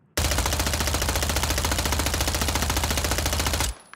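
A machine gun fires one continuous rapid burst in the Call of Duty MW3 firing range. The shots are loud, close and evenly spaced, then stop abruptly.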